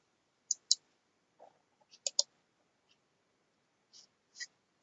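Computer mouse buttons clicking in a quiet room, about ten short, crisp, close clicks that come singly and in quick pairs with gaps between.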